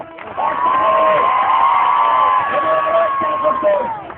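A crowd at a village event cheers and shouts steadily for several seconds, with voices and whoops blending into a loud, sustained roar that fades at the end.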